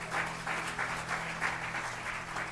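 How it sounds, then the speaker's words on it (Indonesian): Congregation clapping during a church service, a short burst of loud, rhythmic applause in repeated pulses. "Kita berikan tepuk tangan buat Tuhan."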